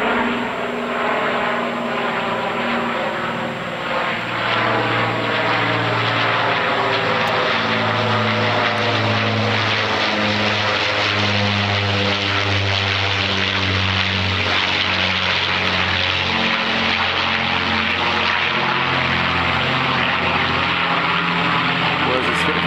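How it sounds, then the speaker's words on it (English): Loud, sustained drone of an Avro Lancaster bomber's piston propeller engines passing overhead, with deep throbbing tones that shift in pitch as the aircraft moves across, steady and powerful throughout. "Lancaster bomber"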